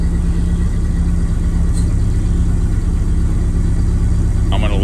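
A 1930 Ford Model A engine running right after a start in below-zero freezing cold, a steady, loud, low idle that stays even throughout, with a brief voice near the end.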